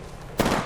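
Gunfire in a shooter video game, a sudden sharp burst of shots partway through after a quieter moment, loud and close.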